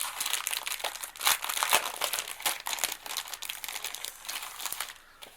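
Paper crinkling and rustling close up while a subscription craft box is unpacked, a busy run of crisp crackles and crumples with brief louder bursts, no voices.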